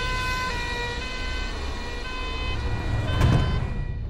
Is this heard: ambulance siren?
yes